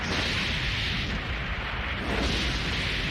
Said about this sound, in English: I do love anime explosions.